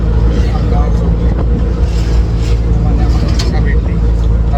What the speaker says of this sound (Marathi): आता आम्ही रिक्षातून चाललो स्टँडवरती